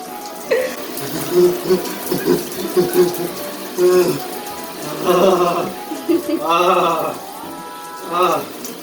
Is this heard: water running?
yes